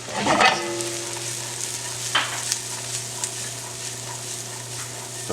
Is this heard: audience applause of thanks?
no